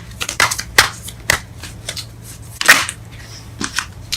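Tarot cards shuffled and drawn by hand during a love reading, a run of quick crisp riffles and snaps, some sharp and loud, close by with no talking.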